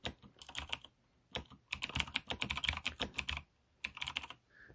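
Fast typing on a keyboard for a Raspberry Pi Zero typing tutor, with close, crisp key clicks in quick bursts and short pauses between words, no talking.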